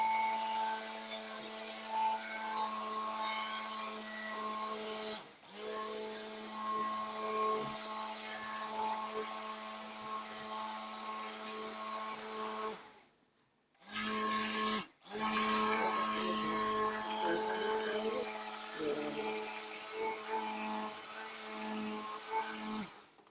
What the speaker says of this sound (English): So we are gonna now stick blend this baby.